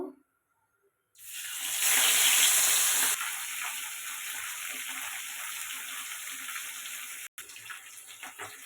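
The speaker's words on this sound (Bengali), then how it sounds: "কড়াই বসিয়ে দিয়েছি কড়াইয়ে তেল দিয়ে দিয়েছি একে একে মাছগুলো ভেজে নেব" Pabda fish frying in oil in a wok, a loud, close sizzle that bursts in after a short silence, peaks briefly, then settles into a steady crackling hiss with no talk.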